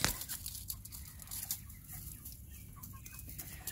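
Several chickens cluck softly and continuously nearby, with scattered scratchy rustling sounds in the background.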